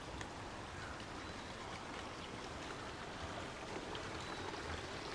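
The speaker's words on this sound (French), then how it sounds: "Il y a le petit ruisseau." A small stream trickles and burbles continuously at low volume, an even watery hiss without pauses or voices.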